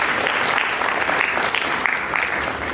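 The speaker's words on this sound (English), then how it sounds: "let's also give ourselves here a round of applause for putting this event together" Conference audience at an Algeria women-in-computing event applauding, a dense, steady wash of many hands clapping, loud and close throughout.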